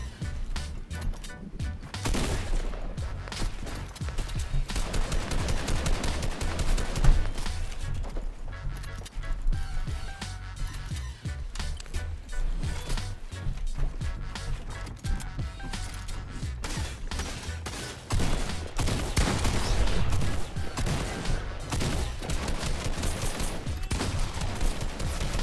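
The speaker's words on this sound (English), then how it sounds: "I obviously need a little bit more practice with the tactical shotgun" Tactical shotgun fire in Fortnite during a chaotic fight, with loud blasts and repeated sharp shots packed across a busy, continuous stretch of game action and no talking over it.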